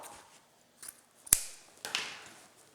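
Scissors snip through a deco mesh ribbon tail with a couple of short, crisp cuts in a quiet room, one sharper snap standing out among soft handling rustles.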